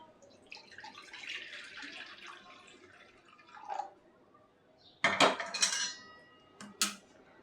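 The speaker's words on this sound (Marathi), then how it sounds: "तर थोडं मी घेते पाणी गरम." Hot water being poured over fresh cashews for a traditional Marathi olya kajuchi bhaji, a soft trickling pour followed by a few sharp clinks of a pot or utensil, close and fairly quiet, with no talking.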